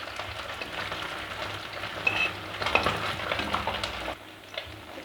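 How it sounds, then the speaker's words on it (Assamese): Pabo fish frying in a pan crackles with a steady, dense sizzle. A few soft stirring clinks sit under it, and there is no talk. "মাছকেইটা ফ্ৰাই কৰা হৈ গৈছে"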